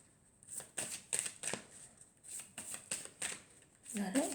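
Playing cards are shuffled in a quiet room, with a series of short riffling bursts in uneven rhythm, close and crisp, each lasting a fraction of a second, and a brief voice near the end.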